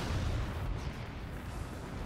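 Cannon fire and explosions from the physics-based fort-battle video game Forts, heard as a continuous low rumbling blast texture with dense booming, no talk over it.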